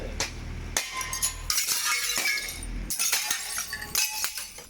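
Greenhouse glass panels shatter and break repeatedly during a greenhouse teardown, with sharp crashing bursts and tinkling shards spread across the clip, loud and close.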